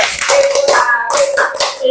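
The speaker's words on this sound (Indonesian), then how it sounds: "tepuk hebat untuk Ibu Hari" A classroom group performs the rhythmic "tepuk hebat" clapping chant, sharp close handclaps in patterned bursts with a brief pause midway and a sung chanting voice over the top.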